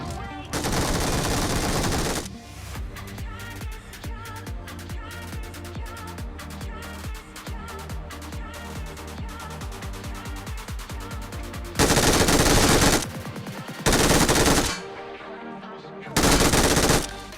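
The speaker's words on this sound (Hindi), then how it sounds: "फाइनली मुझे पिचिंगी के पास वाली गनों से फायर की आवाज आई है" Gunfire in the battle royale game PUBG Mobile: a long sustained burst of rapid automatic shots, then several louder, separate bursts near the end.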